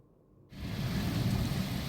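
Night rain outside a hotel window starts abruptly after a brief quiet moment and settles into a steady, dense hiss.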